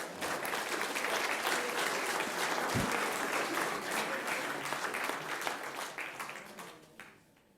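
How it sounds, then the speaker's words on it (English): Loud, sustained applause from a crowd at a school governing board meeting fills the room, holding steady before gradually fading out at the end. "So just another big round of applause for all of our student athletes."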